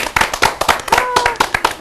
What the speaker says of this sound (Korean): 박수 좀 부탁드릴게요.